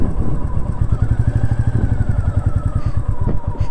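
A motorcycle on a mountain road trip in Kinnaur, near Kalpa, runs with a loud, close, steady engine throb and a rapid chugging pulse throughout.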